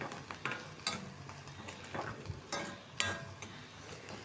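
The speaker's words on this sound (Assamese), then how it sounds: "এতিয়া মই ইয়াত কেঁচা জলকীয়াখিনি দি দিছোঁ আৰু এতিয়া মই অলপ লৰাই দিছোঁ" Raw green chillies frying in a pan and being stirred, a quiet sizzle broken by a handful of close scraping strokes of the spatula at irregular intervals, with no talking.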